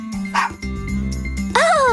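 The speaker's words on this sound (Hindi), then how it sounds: "खुशी भौंकने भी लगा।" Cartoon dog barking happily in a children's animated story, a few short bright yips over a music bed with jingling tones, fairly loud and up front.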